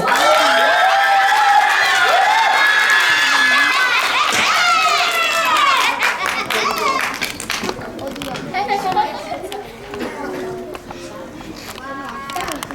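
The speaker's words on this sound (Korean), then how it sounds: "큰 박수로 맞아주세요." A school audience cheers and applauds a student speaker, with loud shouting children's voices and scattered clapping that gradually thins into lively chatter.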